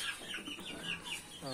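Roosters, including fighter and Aseel birds kept with chicks, cluck softly and continuously at feeding time nearby, with a short crow-like call at the end.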